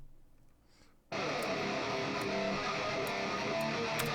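A distorted electric guitar take duplicated, panned hard left and right, with one copy slightly delayed. A dense, loud, sustained wall of guitar starts abruptly after a quiet second and runs steadily to the end.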